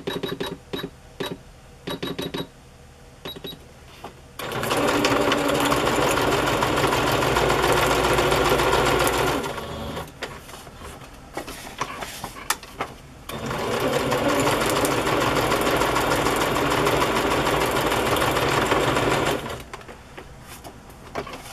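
A sewing machine runs a straight stitch through a Peacock Parade craft journal, with a few short stuttering starts, then two long loud steady runs of rapid stitching separated by a brief pause.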